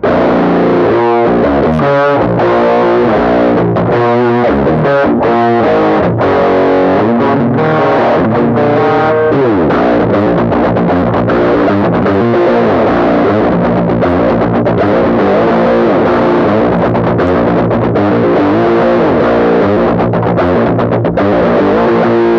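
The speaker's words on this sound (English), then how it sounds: "So we stumbled on like a more cocked wah sort of sound." Distorted electric guitar played through a cocked wah pedal, a nasal, filtered tone with chords and riffs, loud and sustained throughout.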